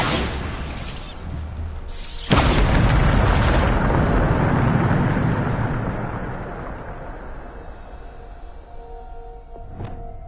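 A Bombarda spell goes off in the Hogwarts Legacy video game, a sudden loud booming blast with crumbling, shattering debris that rumbles on and slowly fades over several seconds, followed by a faint chime.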